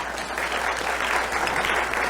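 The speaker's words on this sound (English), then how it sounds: "Give them a clap." Audience applause for a group of young people from North Carolina at a performance: dense, steady clapping from a crowd, moderately loud and continuous, with no speech over it.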